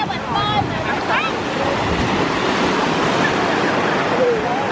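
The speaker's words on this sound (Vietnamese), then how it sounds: "Sóng lớn quá." Large ocean waves break on the beach at Vũng Tàu in a steady, loud roar with buffeting wind, while people talk and call out over the surf.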